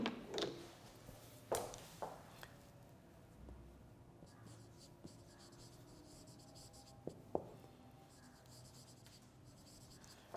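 Handwriting during an online physics lecture, faint scratching strokes with a few sharper taps of the pen or chalk, quiet and close, in a near-silent room.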